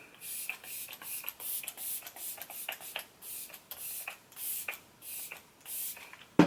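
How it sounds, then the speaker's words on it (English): Repeated short bursts of fine makeup setting spray misting onto a face, about a dozen quick pumps in a steady rhythm, close and fairly quiet with no talking. "So let's go ahead and just spray the face."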